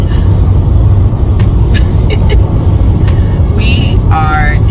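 Steady road noise from a car driving on a highway toward the Tampa area in Florida, a continuous low rumble throughout with brief higher chirps near the end.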